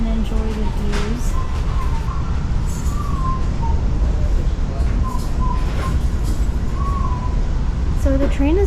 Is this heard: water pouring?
no